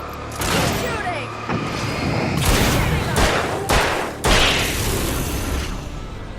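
Gunfire in Alan Wake: a run of loud, sharp shots and booms, about half a dozen, spaced irregularly, each trailing into a noisy, echoing tail.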